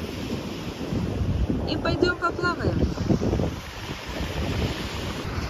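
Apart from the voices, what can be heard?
strong sea waves at a pier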